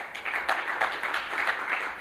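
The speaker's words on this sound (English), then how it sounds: "So can we give Justin a round of applause," An audience claps for a speaker after being invited to give him a round of applause, a steady patter of many hands at moderate volume with no talking over it.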